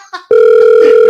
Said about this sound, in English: We got the phone ringing.